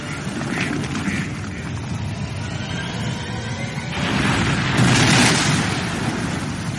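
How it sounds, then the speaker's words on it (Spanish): A massive volcanic hypereruption explosion, a deep continuous rumbling roar that swells louder midway and peaks in a broad blast before holding at a heavy, sustained level. "Creando una hipererupción."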